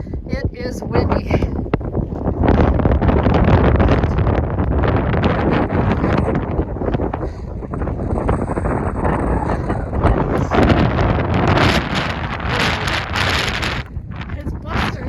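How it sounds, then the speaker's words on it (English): Strong mountain wind buffets the microphone in loud, continuous gusts on a cold alpine hike, with a person's voice talking briefly over it. "It is windy."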